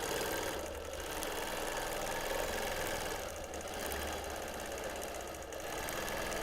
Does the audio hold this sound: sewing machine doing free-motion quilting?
yes